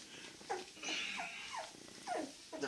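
A newborn golden retriever puppy, a male at a litter in Romania, gives a series of high, rising-and-falling whimpers and yips, close and clear, with short pauses between the cries.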